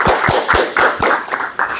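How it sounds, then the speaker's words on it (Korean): Lecture-hall audience clapping to welcome a speaker, a short burst of irregular, fairly close hand claps. "우리 박수로 환영하겠습니다"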